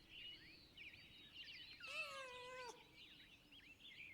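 Kitten in the game Pentiment, one drawn-out, wavering meow rising and falling in pitch, fairly quiet, set against a steady bed of chirping birdsong.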